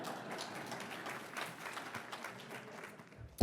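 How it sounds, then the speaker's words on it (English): Audience applause at a political midterm-outlook talk, a steady wash of clapping from a crowd sustained for the whole stretch, fairly quiet and even, ending with a sudden close bump. "Could you applaud for a little longer?"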